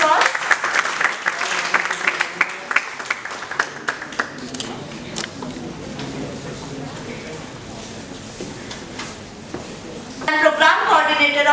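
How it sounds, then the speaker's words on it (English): Audience applause at an MBA and BBA orientation ceremony as a memento is presented to a guest, dense clapping through the first stretch that thins and fades under a murmuring hall, with a voice rising at the end. "Please have a round of applause"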